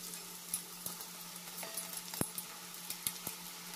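Thin strands of semolina and potato bhujiya batter frying in hot oil, with a quiet, continuous sizzle broken by soft clinks and taps of a utensil against the pan.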